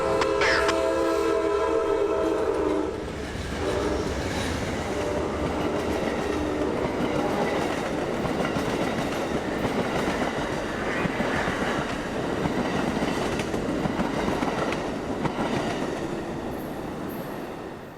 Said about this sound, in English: the deafening sound of trains over the diamond